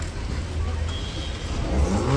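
A car's engine running after being fixed on a roadside in India, a low rumbling idle that swells slightly toward the end, with voices talking nearby.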